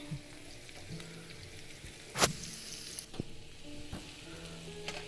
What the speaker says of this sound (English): just stir and make sure it is well mixed and nice